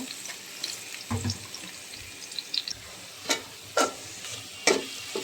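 Onions browning in a pan for beresta, with the duck shahi rezala on the way: a low, steady sizzle runs under scattered clinks and scrapes from stirring. There is no talk.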